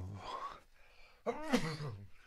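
A person sneezes twice in quick succession, close and clear, each sneeze a sharp voiced burst, in a quiet indoor setting.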